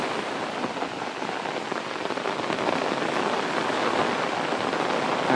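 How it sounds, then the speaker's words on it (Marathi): Steady rain falls in the Konkan countryside, a dense, even hiss of drops on surfaces that holds throughout and swells slightly toward the end, with no voices. "आणि इथे आल्या आल्या पावसाचं आगमन झालेलं आहे."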